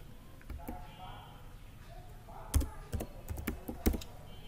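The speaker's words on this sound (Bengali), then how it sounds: "আমরা এই সার্চে আমরা সেই পেজের নামটি লিখে দিব।" Keys clatter on a computer keyboard as a page name is typed into a search bar, with scattered clicks building into a quicker burst of close, crisp taps while someone talks.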